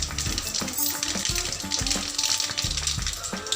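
Urad dal, mustard seeds and torn dried red chillies frying in hot oil, a close, steady sizzle with sharp crackles and pops from the seeds, no talk.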